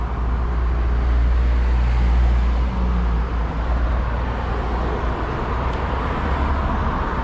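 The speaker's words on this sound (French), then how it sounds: "La circulation, hein." Steady, loud road traffic in the Bahamas, with cars and heavier vehicles rumbling past nearby in a continuous low roar and no talk.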